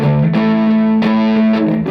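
Distorted electric guitar strums sustained chords from a song, ringing loud and thick with a chord change about every second and nothing else underneath.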